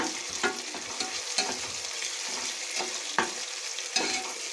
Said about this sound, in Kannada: ಶುಂಠಿ ಬೆಳ್ಳುಳ್ಳಿ ಪೇಸ್ಟನ್ನು ಹಾಕ್ಕೊಳ್ಳೋಣ ಹಾಕಿ ಇದನ್ನು ಕೂಡ ಫ್ರೈ ಮಾಡ್ಕೊಳ್ಳೋಣ